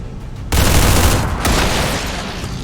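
A loud, dense barrage of gunfire from XCOM 2 breaks out abruptly after a brief quiet and roars on steadily, with a sharp extra crack partway through.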